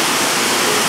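Rushing water pours down Sliding Rock waterfall near Brevard, North Carolina, as a loud, dense, steady roar across the whole short moment.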